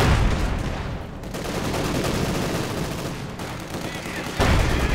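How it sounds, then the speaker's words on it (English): Mortar fire striking a machine gun crew in Company of Heroes 2, a dense rumble of blasts and gunfire, loud and sustained with a fresh burst near the end. "Quick mortar on the MG crew, burning them up."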